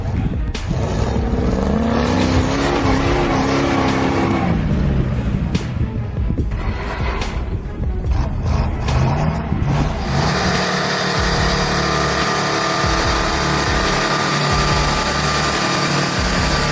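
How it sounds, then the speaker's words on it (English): An Oshkosh M1070 military truck grinds up a slick mountain off-road, its heavy engine droning and straining continuously, loud and close, before the sound turns into a broad, rushing roar near the end. "this Oshkosh M1070 is climbing that slick mountain like a champ"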